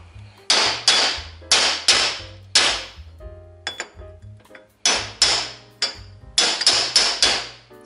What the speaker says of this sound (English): So I'm going to stop and take my drift. I'm just going to start to tap this down very, very lightly side to side.